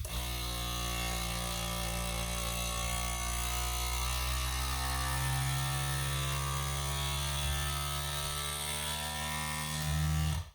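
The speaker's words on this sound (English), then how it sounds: "hit our vacuum button" A steady mechanical hum from a vacuum sealer pump with a jar lid attachment drones continuously for about ten seconds at moderate volume, with no talking, cutting off abruptly at the end.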